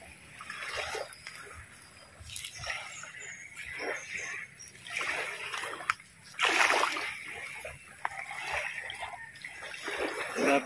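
Choppy sea waves splash and slosh around a small fishing boat in rough water, coming in uneven bursts close by, with some speech mixed in.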